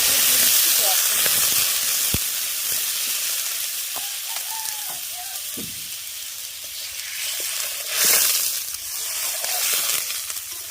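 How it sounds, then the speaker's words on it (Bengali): Steady, loud hiss and sizzle of water poured onto mustard paste frying in hot oil, continuous through the clip, with brief stirring clinks and a surge of steam hiss near the end. "সর্ষে বাটাটাকে তেলের সঙ্গে দশ থেকে পনেরো সেকেন্ড একটু এইভাবে নেড়ে নেওয়ার পর দিয়ে দেবো জল"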